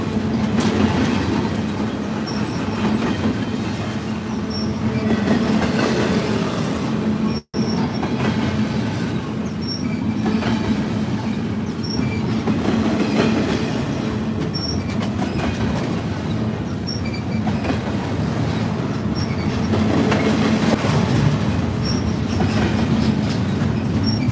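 A freight train carrying single-stacked intermodal containers rolls steadily past a trackside spot in Lilly, Pennsylvania, with continuous rumbling, rhythmic wheel clatter and faint squeals throughout.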